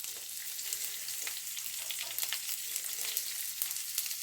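Lentils frying in oil with onion and dried chili for a snake gourd fry, a steady soft sizzle with scattered crackles and pops, close and fairly quiet, with no talking.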